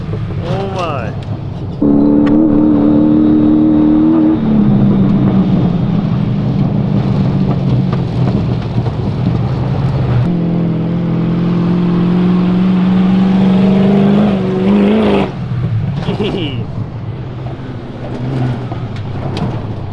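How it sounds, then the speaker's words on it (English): Off-road prerunner trucks race at Plaster City, engines roaring and revving loudly with sustained droning tones rising and falling, while excited voices shout over the noise. "Both the trucks just going for it."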